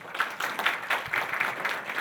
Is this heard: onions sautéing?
no